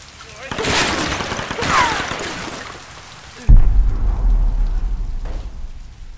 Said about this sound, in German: Und wo schießen die jetzt schon wieder?